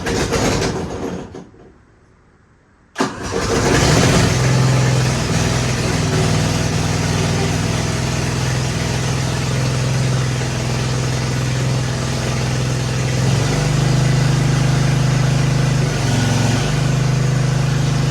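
After a brief lull, the diesel engine of a worn Hydra Mac skid steer starts and runs loud and close, a steady rumbling drone with a slight shift in pitch partway through.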